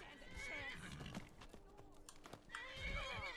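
A horse in the video game Skyrim whinnies and clops its hooves amid game ambience, fairly close, with other game noises mixed in.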